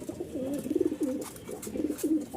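Several pigeons coo in low, rolling phrases that repeat steadily, close by and fairly loud, in a pigeon-keeping setup after feeding, with no talking over them.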